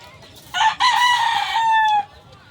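A gamefowl rooster in a backyard breeder's hardening pen gives one loud, close crow of about a second and a half, strongly harmonic with a sustained tail, against faint background noise and no speech.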